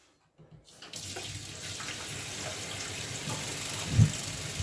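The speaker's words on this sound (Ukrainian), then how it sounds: "Зараз спробуємо відкрити гарячу воду." After a brief silence, hot water starts gushing steadily from a tap and keeps running, with a soft thump near the end.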